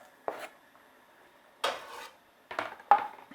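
Garlic and red chilies stirred in a pan with a utensil, giving four separate scraping, clattering strokes against quiet background sizzle.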